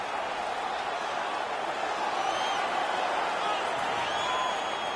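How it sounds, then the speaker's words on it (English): A large hockey arena crowd in NHL19 roars in a sustained, even wall of cheering after a fight, loud and steady with occasional whistles rising above the din. "The crowd is ecstatic."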